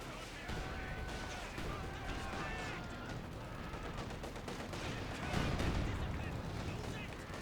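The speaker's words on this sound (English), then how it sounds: "Grenades being thrown." Grenades thrown and bursting amid a large 4v4 Company of Heroes 2 battle on the Lanzerath Ambush map, with constant gunfire and one heavier, louder blast late on, all under steady talk.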